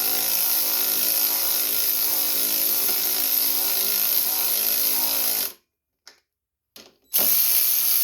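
A ratchet wrench loosening 10 mm nuts on the carburetor of a Poland Pro snowblower, giving a steady, loud, close clicking that runs for several seconds, breaks off into brief silence and then starts again.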